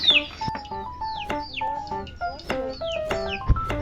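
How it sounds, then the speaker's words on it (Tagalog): Rescued fledgling pet birds chirp noisily nearby in short, rising and falling tweets that come in quick irregular bursts, with no speech over them. "Masyado kasi maingay mga alaga kong ibon."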